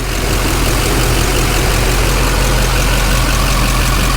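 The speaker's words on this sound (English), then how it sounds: "Okay, so Duramax is running good." Duramax diesel engine on an auction excavator, running loud and close with a steady, dense idle rumble and no change in pace, with no voices.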